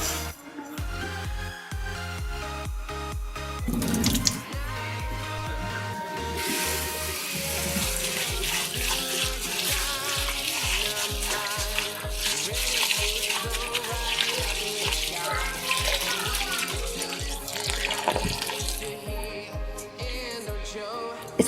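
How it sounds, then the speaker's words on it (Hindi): Dry coriander is rinsed under running tap water in a home kitchen, a steady wash of water noise playing beneath louder rhythmic background music for most of the clip. "सूखे धनिया को हम लोग फ़ौरन पानी में डिप करेंगे और इसको साफ़ कर लेंगे"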